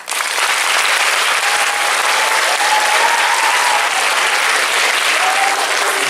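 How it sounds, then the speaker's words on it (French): A hall audience applauds the technical crew who prepared the room, stage, lights and sound at a school science congress; dense, steady clapping fills the room at full strength for about six seconds without letting up. "On peut les applaudir"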